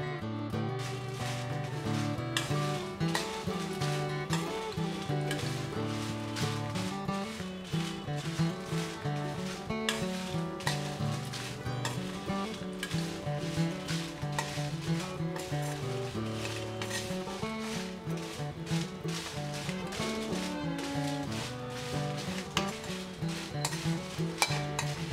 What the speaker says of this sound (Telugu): అదేవిధంగా కరివేపాకు కూడా ఫ్రై చేసుకుందాం. ఇది కూడా ఆయిల్ లేకుండానే ఫ్రై చేసుకుంటున్నాం.